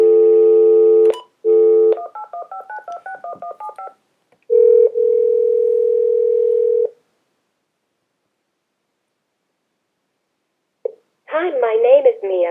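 Telephone tones heard over a speakerphone: a steady dial tone, a quick run of dialing beeps, a long ringback tone, then silence before a voice answers near the end.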